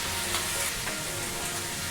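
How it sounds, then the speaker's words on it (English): Rice frying over high heat for Thai holy basil beef fried rice, a steady, close, dense sizzle that holds without a break for the whole stretch, with no voices over it. "because I want to fry this rice"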